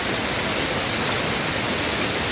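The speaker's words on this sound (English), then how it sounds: "You can see the waterfall behind me." Steady broadband rush of water pouring down a waterfall at the base of Economy Falls, a dense continuous roar with no breaks.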